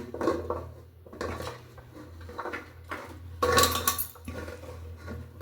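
Spinach leaves and stems tipped into a cooking pot for a yogurt-dal sambar, giving soft clattering and rustling knocks against metal cookware in several short bursts, nearby and moderately loud.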